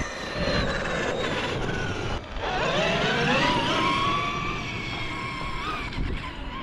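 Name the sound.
RC truck with belt drive running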